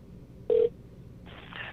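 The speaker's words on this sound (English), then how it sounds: "waiting for the phone to connect" A telephone dials and connects, a short tone burst followed after a pause by a longer electronic connecting tone, faint and close.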